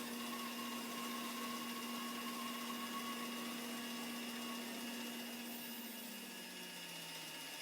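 A Shopsmith PowerPro bandsaw resaws wood with a steady, even machine whine and hum that holds at a constant level for several seconds, with no voices.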